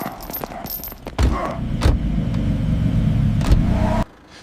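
Car doors and keys clatter before engines start and rev up loudly as cars pull away close by, the roar holding steady and then cutting off abruptly.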